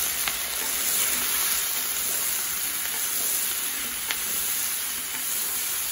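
Onions fry and sizzle in a pan for lecho, a steady close crackle with a few sharp pops and stirring scrapes throughout, no voices.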